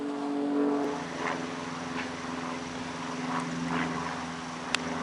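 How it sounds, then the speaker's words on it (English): A plane passes overhead in Royston, a steady droning engine tone that swells and recedes over several seconds, moderately loud against outdoor ambience. "So it is an actual plane."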